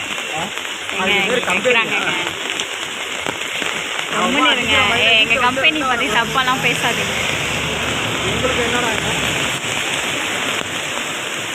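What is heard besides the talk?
heavy rain falling in Chennai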